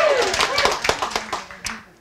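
Audience applause for a contestant from the West Seattle YMCA at a live contest: a burst of scattered hand claps with several sharp taps standing out, thinning and fading over two seconds, with a voice briefly audible at the start.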